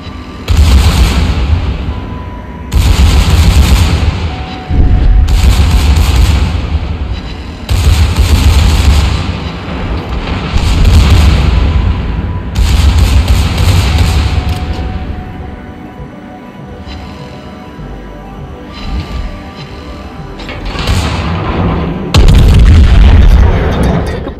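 Secondary guns on the Tier 9 German battlecruiser Prinz Rupprecht fire in a naval video game, loud booming salvos repeating every couple of seconds with short quieter gaps between them.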